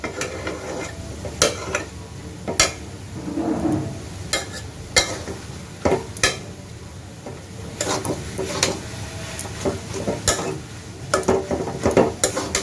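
Coconut and molasses nadu mixture stirred in a pan, with repeated sharp scraping clicks of a spoon against the metal at an uneven rhythm over a soft sizzle, close and moderately loud.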